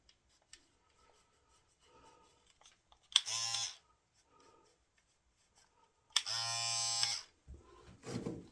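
A cordless battery-powered electric trimmer buzzes up close while shaping facial hair, in two steady bursts: a short one, then a longer one, separated by near silence and light handling noises.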